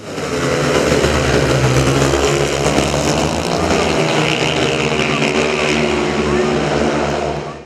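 Speedway motorcycles racing in competition heats, a loud, unbroken engine roar that stays steady and dense the whole time, with a voice speaking over it.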